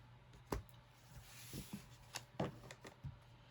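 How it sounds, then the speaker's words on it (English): Tarot cards are shuffled by hand, giving soft irregular riffs and taps of card against card, close and quiet over a low steady hum. "let's get started. Let's get to shuffling."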